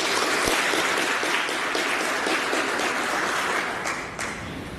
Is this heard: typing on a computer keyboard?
no